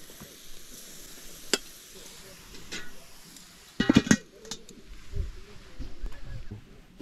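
Beer-boiled brats cook over a charcoal grill with a steady low sizzle, broken by a few sharp pops and crackles, with light outdoor background noise throughout.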